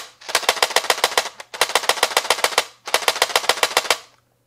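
A P99L light gun recoil unit fires in automatic mode, giving three loud, close bursts of about eight rapid, sharp mechanical clacks each, separated by short pauses.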